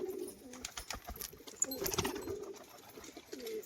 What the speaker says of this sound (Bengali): এটা হচ্ছে সিলভার দুমা বা কাশমা দুমার নামে জানেন অনেকেই